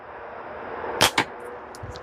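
Two sharp cracks in quick succession as a slingshot ammo strikes a target, followed by a faint light knock, heard against quiet outdoor background with no talking.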